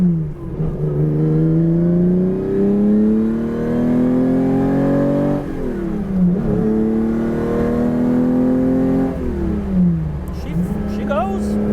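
A Ferrari 365 GTC4 engine heard from inside the car rises in pitch as it revs hard under acceleration, one strong pull followed by a second climb, loud and continuous.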